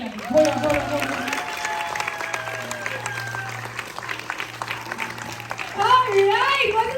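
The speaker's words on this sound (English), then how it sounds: "you're going to have to keep clapping, keep clapping, keep clapping." Audience applause after a school musical performance of Matilda, a steady clapping bed under a voice that talks and then exclaims over the crowd, with a low hum beneath.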